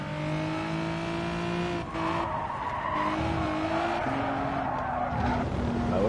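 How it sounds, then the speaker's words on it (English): Engines of racing video game cars drone steadily while tires skid and the cars bounce and jump across grass at Goodwood, with shifting engine pitch and rough scuffing bursts throughout. "You can just hear the cars just bouncing around,"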